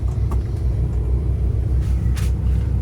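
A 2017 Kenworth T680 truck with a Paccar MX 500 hp engine idles steadily: a deep, even diesel rumble heard from close by, with a few faint clicks and no voices.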